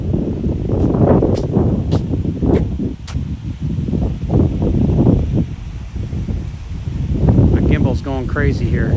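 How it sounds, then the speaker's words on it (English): Wind gusts in an autumn park, a steady broadband rumble battering the microphone throughout, loud and close, with a brief whistling tone near the end. "But I was really hoping it wasn't going to be windy today."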